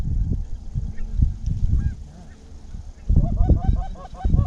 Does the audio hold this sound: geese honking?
yes